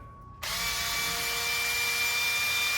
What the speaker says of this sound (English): So all you're going to do is check it by spinning it on the drill.